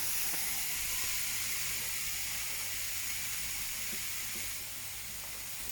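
Onions frying in a hot pan, a steady broad sizzle with light stirring taps, close and continuous, easing slightly near the end, no talking.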